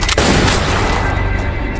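A pistol gunshot in a film duel, heard as one loud, sharp report at the start followed by a long, booming reverberant tail.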